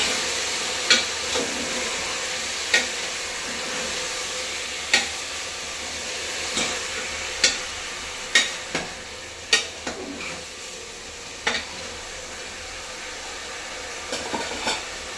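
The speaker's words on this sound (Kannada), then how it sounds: "ಚೆನ್ನಾಗಿ ಮಿಕ್ಸ್ ಮಾಡಬೇಕು" A spoon works through drumstick and radish sambar in a pan, giving sharp scraping knocks at irregular intervals over a continuous soft sizzle, close and fairly loud.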